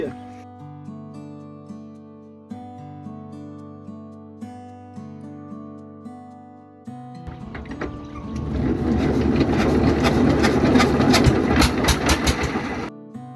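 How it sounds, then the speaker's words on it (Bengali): A boat engine cranks to life after a stretch of steady mechanical tones, then roars loudly and continuously, close by, on a rainy river trip toward Char Kukri Mukri. "মাঝি ভাই বোটের ইঞ্জিন স্টার্ট দিলেন"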